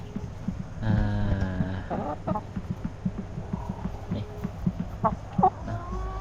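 Laying hens on a farm cluck close by in a steady series of short, throaty calls with a few louder squawks, while someone briefly speaks.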